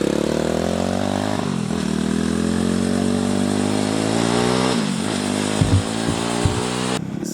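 A turbocharged Barbie mini jeep engine drones loudly and steadily with a rough, buzzy tone, dipping briefly as the throttle changes, then a couple of sharp knocks near the end before it cuts off.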